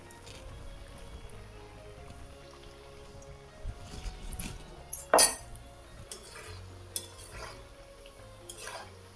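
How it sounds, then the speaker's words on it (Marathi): Shankarpali dough pieces are dropped into hot oil and stirred, with scattered clinks and scrapes of a utensil over a faint low sizzle, all close by. "ह्या काही अशी एक एक एक टाकायची तेलात."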